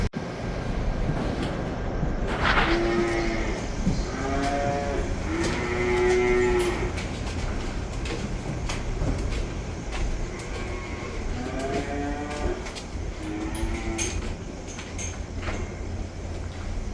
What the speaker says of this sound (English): Got cows going in the barn now.